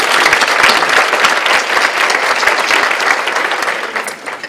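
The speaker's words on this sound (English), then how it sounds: "Let's give them a round of applause." An audience at a Go Red for Women charity luncheon breaks into loud, dense applause that holds steady before tapering off near the end.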